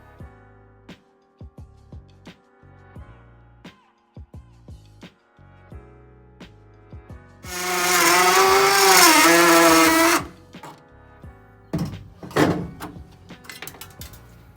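A power tool whines loudly through race car metal for about three seconds, cutting out rear webbing, surrounded by sharp clanks and knocks of work on the car body.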